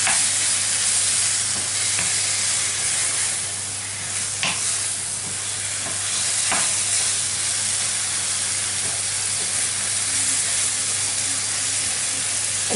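Zucchini with hake and prawns sautéing in a pan, a steady close sizzle and hiss with occasional stirring scrapes and clicks throughout, no voices.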